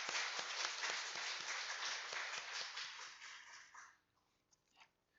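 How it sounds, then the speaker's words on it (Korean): Applause from a church congregation welcoming a new Sunday school teacher during a Korean Sunday worship service, steady dense clapping for about four seconds that fades out, leaving a few scattered claps. "우리 인사하실 때 박수로 환영해 주시기 바랍니다."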